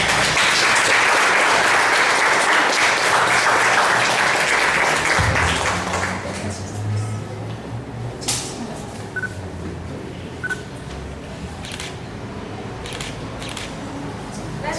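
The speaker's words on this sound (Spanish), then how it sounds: "Un aplauso." A conference audience in Oaxaca bursts into dense applause that fills the room for about six seconds, then fades to scattered claps, rustling and a few sharp clicks.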